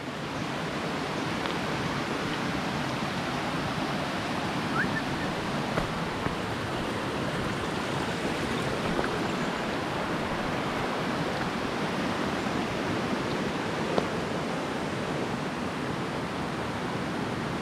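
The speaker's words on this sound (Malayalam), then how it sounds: "ഒരു പുഴ ഒഴുകുന്നുണ്ട് താഴെ." A river flows below on the trekking path to Kadamagundi waterfall in Karnataka, a steady, broad rushing of water that fills the whole stretch evenly, close and continuous with no voices.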